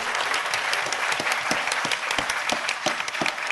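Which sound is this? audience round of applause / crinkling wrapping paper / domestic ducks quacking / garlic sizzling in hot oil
audience round of applause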